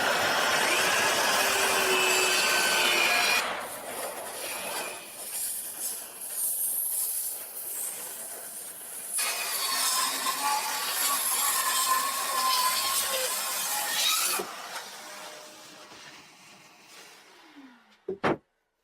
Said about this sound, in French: on va faire un essai rapide avec la lame bois à 24 dents